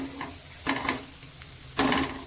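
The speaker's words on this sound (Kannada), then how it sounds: "ನಾನು ಎಣ್ಣೆ ಸ್ವಲ್ಪ ಕಮ್ಮಿ ಹಾಕಿ ಫ್ರೈ ಮಾಡ್ತಾ ಇದ್ದೀನಿ" Sweet potato slices frying in a little oil on a tawa give a steady close sizzle, with a few louder bursts as the slices are stirred and turned.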